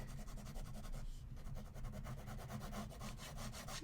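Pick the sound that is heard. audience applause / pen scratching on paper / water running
pen scratching on paper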